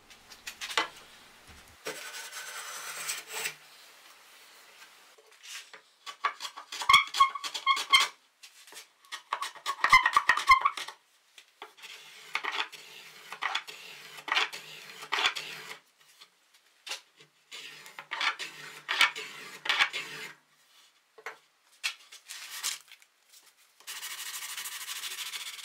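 Hand sanding on a wooden Mission-style bookcase: repeated raspy rubbing strokes in uneven bursts with short pauses between, close and moderately loud, no talking.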